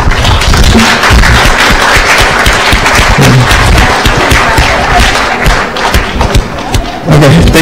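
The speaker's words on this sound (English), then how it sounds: "Ladies and gentlemen, please big applause for them" Loud, dense audience applause at a university closing ceremony, with close, vigorous clapping that holds steady for several seconds, briefly dips, and then swells again near the end.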